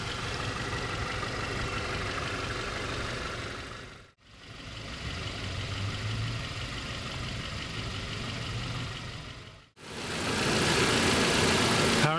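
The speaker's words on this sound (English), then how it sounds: "Powering the Tiguan here is VW's very familiar 2-liter turbocharged 4-cylinder" A 2018 Volkswagen Tiguan SE's 2.0-liter turbocharged four-cylinder engine running at a steady hum, with a continuous broadband drone interrupted by two brief dropouts.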